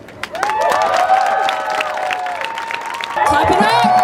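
Rally crowd at a justice protest clapping and cheering, with loud overlapping voices and shouts over steady applause throughout, rising again near the end.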